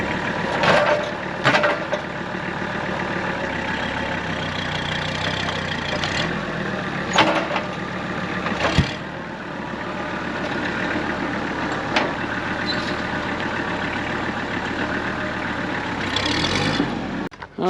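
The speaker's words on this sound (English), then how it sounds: "But in our way is a tractor." A tractor engine runs steadily at a low idle, with a few sharp knocks and clunks breaking through the continuous mechanical drone.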